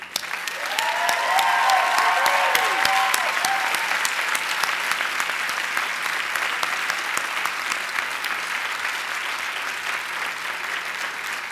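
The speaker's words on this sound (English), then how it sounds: "Please join me in applauding these very important people." A large audience claps steadily at a 2015 osteopathic medical school commencement, a broad, even wash of applause with a short whoop near the start, holding strong for several seconds and slowly thinning toward the close.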